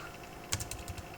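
Keys tapped on a computer keyboard while code is written in Python, a short quiet burst of several light clicks in quick succession against a low background hum.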